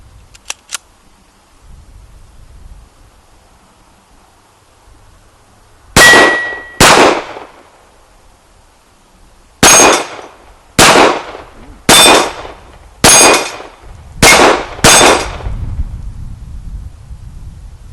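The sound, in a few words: H&K USP pistol shots hitting steel targets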